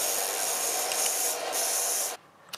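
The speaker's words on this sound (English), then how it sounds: "finish it off in a belt sander" A belt sander grinds against the rounded end of a brass sheet pointer, a loud steady abrasive rasp for about two seconds that cuts off abruptly, leaving faint quiet.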